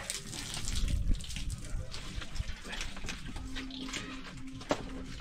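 A strong water current rushes in a broad, continuous wash, loud and near, with scattered knocks and splashes over the flow.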